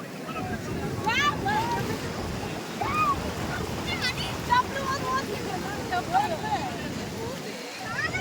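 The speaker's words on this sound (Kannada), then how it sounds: "ದೊಡ್ಡ ದೊಡ್ಡ ಅಲೆ ಬರ್ತಾವ" Steady broadband wash of surf and wind noise from big waves at Gokarna beach, with birds chirping faintly on top and a voice heard briefly in the background.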